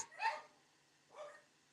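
Two muffled barks from dogs inside a house, spaced about a second apart, fairly faint and distant in a quiet room.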